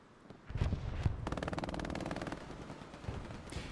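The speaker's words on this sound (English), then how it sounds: "MG42 in the action by Splitty" An MG42 machine gun fires in the Hell Let Loose video game, a rapid sustained burst of close, loud shots lasting a couple of seconds after a few single gunshots.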